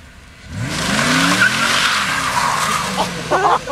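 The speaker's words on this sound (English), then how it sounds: "Watch, he's gonna come around here, just drifting, watch." A Mustang SVT Cobra drifts through a power slide, its tires squealing loudly in a long, sustained screech over the engine's roar, with no talking.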